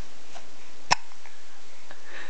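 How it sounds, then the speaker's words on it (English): A single sharp hiccup from a young child, close and abrupt, standing alone in an otherwise quiet room. "You got the hiccups?"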